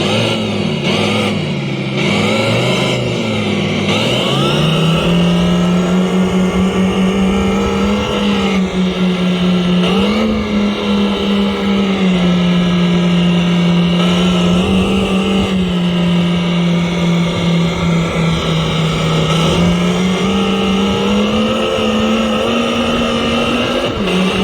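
Simulated engine sound from a Segway Ninebot GoKart Pro Bluetooth speaker, a loud continuous motor drone rising in pitch and dropping as if shifting gears, repeating several times with no talking.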